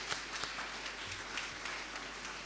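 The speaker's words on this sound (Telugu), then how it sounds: "మన అమ్మగారుల కోసం ఒకసారి చప్పట్లు కొట్టడం చూద్దాం" A church congregation at a New Year celebration gives a round of applause for the altar decoration, heard as faint, distant, steady clapping throughout.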